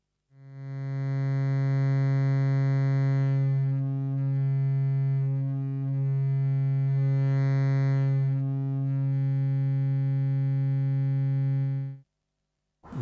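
A Eurorack modular synth on Doepfer hardware, with a Turing Machine module used as the oscillator, holds one sustained buzzy, harmonically rich tone for about twelve seconds. Its timbre shifts slightly along the way before it cuts off abruptly.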